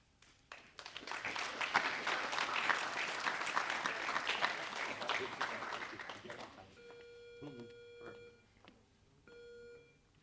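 A crowd applauds guests of honor at a middle school Heroes Day ceremony, with sustained loud clapping for about six seconds. The clapping then fades into a quieter stretch that carries several steady electronic beeps.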